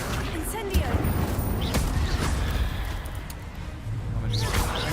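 Magical spell effects for Accio, Incendio and Levioso in Hogwarts Legacy during a fight with spiders, a steady dense wash of whooshes, bursts and crackling impacts filling the whole stretch, with a voice casting over it.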